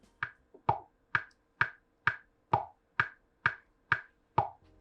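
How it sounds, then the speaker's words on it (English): Steady, evenly spaced metronome clicks at 130 BPM, about eleven in a row, dry and close, with no other sound around them. "it gives us a click track that we're gonna be able to play to"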